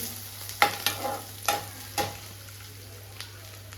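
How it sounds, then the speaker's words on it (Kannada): Tamarind frying in a pan for lentil sambar, heard as a soft steady sizzle punctuated by several sharp scraping stirs of a spoon at close range, with no talking. "ಇದನ್ನು ಸ್ವಲ್ಪ ಫ್ರೈ ಆಗಿಬಿಡಲಿ"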